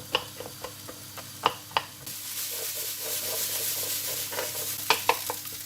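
Onions and celery stir-fried in a pan for stuffed peppers, with sharp scraping stirs at first, then a steady close sizzle and a few more clicks of the utensil.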